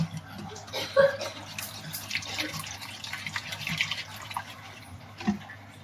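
Water is stirred into guava chutney in a vessel, giving soft, intermittent liquid swishes and clinks at a quiet level, with no talking.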